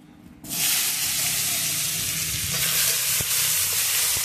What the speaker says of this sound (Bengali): ভাজার ওই তেলেই আলুগুলো ভেজে নিচ্ছি।